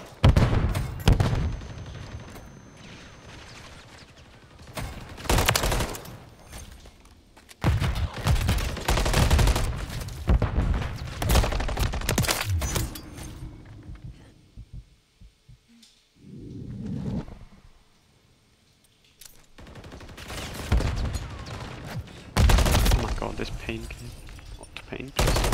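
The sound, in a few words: gunfire in a video game, Ranked Hardpoint match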